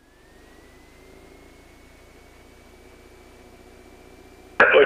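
A light aircraft engine run up to 1800 RPM on the ground, a steady droning hum with a rising whine holding level, ending in a sudden loud burst.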